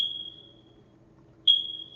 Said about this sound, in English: You know how the project smoke alarms be?